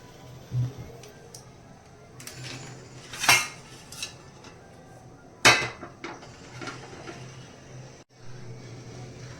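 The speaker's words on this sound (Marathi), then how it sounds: "एक साइडला आपण पातेलं तापत ठेवूया" A metal cooking pot is set on the stove to heat while chicken pulao is being made, giving two sharp metallic clanks a couple of seconds apart over quiet kitchen background with a few softer knocks.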